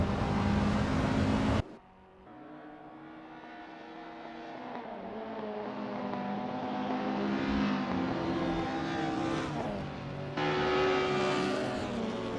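Simulated Escort 1600 race cars warming up at Oulton Park in Assetto Corsa: a steady, loud engine drone that cuts abruptly, returns lower and slowly builds in pitch and volume, with no talk over it.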